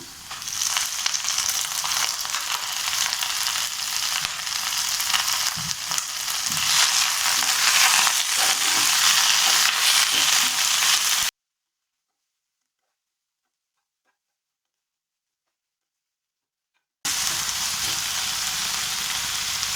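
Thoothuvalai leaves are sautéing in a pan with a continuous sizzling hiss and soft crackle, cut by a stretch of total silence before the frying resumes.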